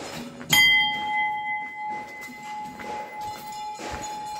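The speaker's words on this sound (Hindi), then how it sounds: "पूरी घंटियां लगी हैं इधर" Hanging temple bells at Haat Kalika temple in Gangolihat, in a deodar forest, ring out with one sharp metallic strike followed by a long sustained ringing tone that slowly fades, with faint outdoor background noise.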